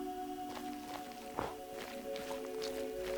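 A block being mined in Minecraft gives a series of soft, slushing hits about every half second over steady in-game tones, with one sharper thump near the middle.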